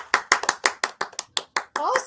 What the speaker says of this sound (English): on your soundboard, do you have the F1 button, which is the audience chair? The applause.